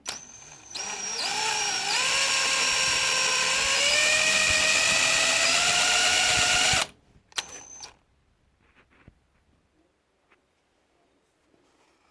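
Power drill with a larger bit boring a hole in a knife handle, a loud high whine that climbs in pitch, runs steadily for several seconds, then cuts off abruptly and leaves near silence.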